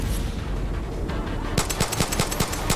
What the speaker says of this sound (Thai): แล้วก็ยิงให้มันระเบิดไปซะ